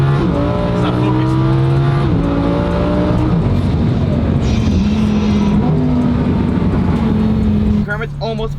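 A twin-turbo Lamborghini Huracan running on E85, roughly 1,200 hp, drives on a road with a loud, steady engine drone that rises and falls through gear changes, all near and continuous. Voices talk faintly underneath.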